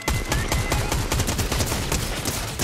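Rapid automatic turret gunfire in Fortnite, a dense, continuous burst of loud shots repeating quickly and evenly without pause.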